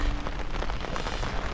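Steady rain falls in a park during a downpour in Jodhpur, a dense, even hiss of drops hitting surfaces that continues without a break from nearby.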